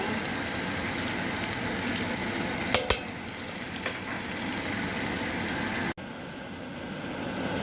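Green beans cook in a pot with salt and pepper, a continuous soft sizzle and bubbling filling the clip, with a few brief clinks of stirring partway through and no talking.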